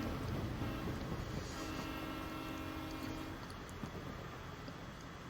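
A train rumbles steadily through a rural village in the video game Professor Layton and the Diabolical Box, a continuous rolling rail sound with a faint whistle-like tone, no talking.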